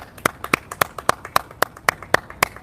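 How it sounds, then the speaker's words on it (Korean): Steady rhythmic clapping at a street protest rally, about ten crisp, evenly spaced claps, fairly close and clear with no talk over them. "먼저 저희 개미청년단을 위해서 박수 한번 부탁드립니다."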